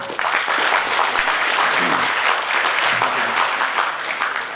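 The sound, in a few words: audience applause at felicitation ceremony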